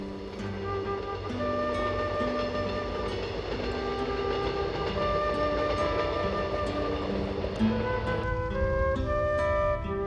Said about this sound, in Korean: 영원히 쉼표가 된 역을 뒤로하고 기차는 느리게 전진한다.